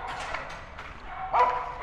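A dog barks and yips a few times in a place in Pattaya, the sounds fairly close and moderately loud, with a sharper, higher yelp near the end.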